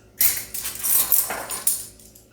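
Metal measuring spoons scooping roasted garlic powder from a container, a quick run of close light clinks and scrapes over about two seconds.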